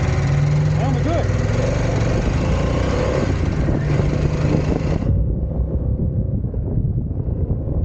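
A 2021 Harley-Davidson motorcycle, a Road Glide Limited or Pan America, rumbles steadily in low gear during a test ride under heavy wind buffeting the microphone, and the engine drone stays loud and continuous throughout.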